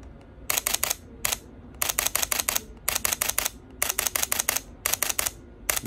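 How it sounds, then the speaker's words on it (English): The new shutter assembly in a Sony A7 III (ILCE-7M3) fires repeatedly up close, crisp mechanical clicks in quick bursts of three to five with short pauses between, and no talking. "So we've got the new shutter assembly in there."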